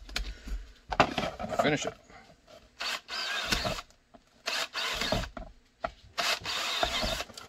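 A 7/32 drill bit bores a hole in a thigh rig holster, with repeated short bursts of harsh grinding and rasping, several loud separate passes with pauses between them, while someone speaks briefly nearby.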